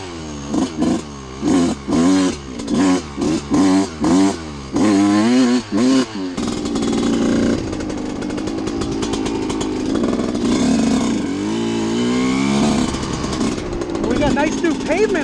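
Dirt bike engines rev hard in short repeated bursts, then settle into a sustained rising and falling drone as the bikes ride, with voices mixed in at points.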